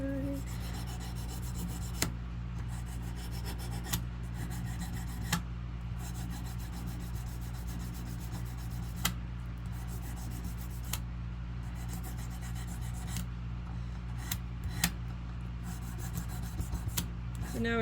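Sanding sticks rubbing and smoothing a metal bezel setting in jewellery work, a soft, close, continuous rasping with small periodic taps and clicks, fairly quiet throughout.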